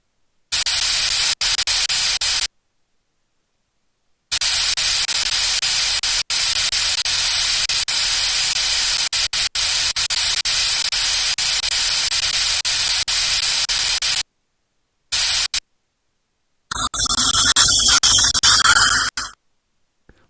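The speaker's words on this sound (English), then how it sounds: "Can you spray them with water? I run the suction to remove the water." Dental water spray and suction in a doctor video game, harsh hissing and sucking noise in long loud bursts broken by abrupt silences, ending with a choppier, sputtering stretch.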